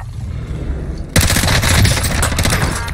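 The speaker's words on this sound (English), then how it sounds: "Taking fire here." Rapid automatic gunfire from the video game Warzone erupts suddenly after a low rumble and continues as a loud, dense burst of shots until the end.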